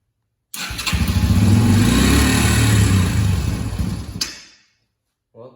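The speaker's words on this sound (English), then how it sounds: "Well, the bike runs, but looks like the carburetor is gonna need to be cleaned or at least something done to it." A Yamaha TTR 125 dirt bike engine catches on its electric start and runs loud and close for several seconds with a rough, uneven idle, then cuts out abruptly, followed by a short knock.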